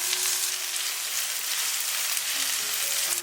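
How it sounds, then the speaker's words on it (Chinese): Scallion whites stir-fried in hot oil in a wok give a steady, loud, close sizzle with a hiss that holds evenly throughout and has no voices over it. "继续翻炒"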